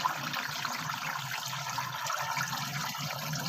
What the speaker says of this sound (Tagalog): lalagyan na natin ng tubig yung ating lutuan